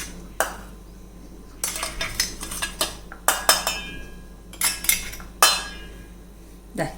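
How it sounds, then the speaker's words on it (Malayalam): Homemade sambar powder is tipped from a grinder jar into a metal vessel, with several bursts of clinking and scraping of metal utensils, close and moderately loud, separated by short quiet gaps. "ഇതെല്ലാം കൂടെ നമുക്ക് ഈ പാത്രത്തിലേക്ക് ഇട്ട് കൊടുക്കാം"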